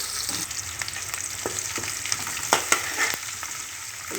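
Onion pieces and dried red chillies frying in hot oil in a pan, a steady close sizzle with scattered crackles and a few sharp utensil clicks, heard alone.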